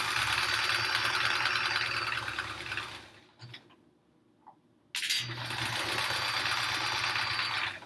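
A sewing machine stitches quilt rows together with a steady, loud, close mechanical whir. It stops for about two seconds with a small click in the pause, then starts again at full speed.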